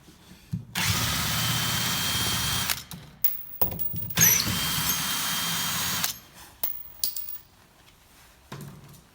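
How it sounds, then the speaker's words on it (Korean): A powered screwdriver or drill whirs in several bursts while backing out two screws from a fireproof front door lock, with long continuous runs broken by short pauses and clicks. "십자 드라이버로 요 두 개를 끌어주십니다"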